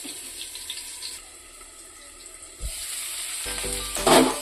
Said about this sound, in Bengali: আলুগুলো সিদ্ধ ভাজা হয়ে গেছে